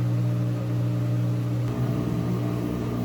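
Maytag Bravo or Whirlpool Cabrio top-load washer spinning after an F51 and Sd error repair, a steady mechanical hum and whir, close and continuous.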